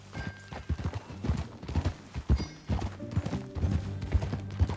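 Horse hooves clip-clopping in a steady trotting rhythm during a ride in Red Dead Redemption 2, close and fairly loud, with a brief whinny and faint game ambience.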